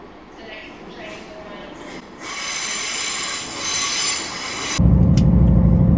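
A train runs along rails with loud squealing wheels and a high metallic screech, rumbling louder toward the end as it moves over the track, with voices faintly under it.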